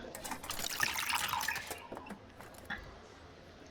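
Water pouring into a small container in the video game Popup Dungeon: a bright, splashy fill that swells for about a second and a half, then fades to faint drips and ticks.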